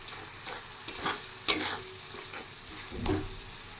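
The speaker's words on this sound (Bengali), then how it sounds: "এবার মশলাটা আরেকটু ভেজে নেব" Salt, turmeric and dried chili powder frying and being stirred in a pan while preparing a bele fish curry, with soft sizzling and a few scraping stirs and clinks close by.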